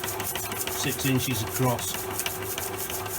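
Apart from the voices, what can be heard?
machine boring out the relief in thick stock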